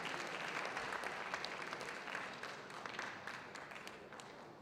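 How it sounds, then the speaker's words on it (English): An audience at an awards convention applauds, a dense wash of clapping from many hands that holds steady and then slowly tapers off, with no one speaking over it. "Another round of applause."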